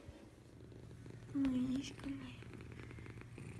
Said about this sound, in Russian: Это тот редкий момент, когда мышка мурчит.